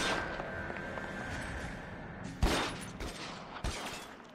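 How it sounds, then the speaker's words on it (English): Gunfire in the crime video game L.A. Noire: a few sharp shots burst out over a steady hum of game ambience, each one loud and quickly gone. "I'm getting shot at"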